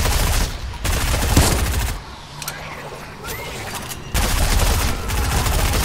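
SMG gunfire in the video game Fortnite: rapid automatic bursts, loud and close, with a quieter pause in the middle before the firing resumes, no talking over it.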